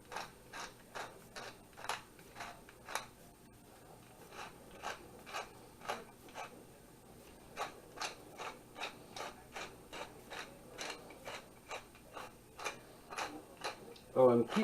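A KitchenAid mixer grinder attachment grinds pork sausage, giving an evenly paced run of sharp ticking, clicking strokes at close range, with a brief voice at the very end.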